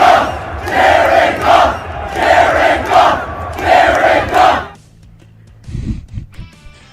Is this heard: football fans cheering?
yes